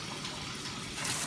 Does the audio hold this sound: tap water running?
yes